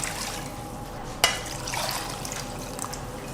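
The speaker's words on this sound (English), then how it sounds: "So add the water and cover, bring it to boil." Water pours steadily into a pot holding beef bones, making a soft, continuous splashing with one sharp clink, heard close and fairly faint without talking.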